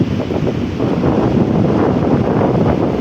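Strong sea breeze blows steadily across the beach at General Nakar, Quezon, a loud continuous rushing roar buffeting the microphone, with surf mixed in beneath and no voices.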